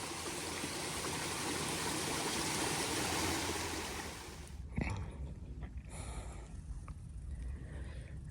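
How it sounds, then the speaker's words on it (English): A trail stream water source flows in a loud, steady rushing wash that cuts off abruptly midway, leaving quieter trickling and outdoor background noise. "At least this source is flowing pretty nicely, so I feel better about drinking this."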